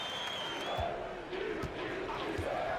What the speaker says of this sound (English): those crowd noises are distracting me